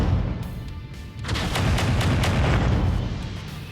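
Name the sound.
mech weapons firing on turrets in MechWarrior 5 video game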